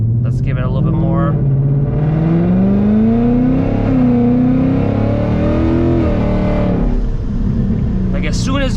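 An 800 hp ESS supercharged S650 Mustang GT running on E85 accelerates hard, its engine note climbing steadily through the revs and then easing off, loud and close from inside the cabin, with a voice talking over it.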